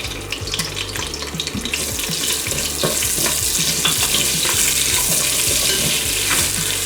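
Mustard seeds, cumin and ginger fry in melted ghee for an Indian pork curry, a loud close sizzle with rapid popping and crackling seeds and occasional stirring scrapes, continuous throughout.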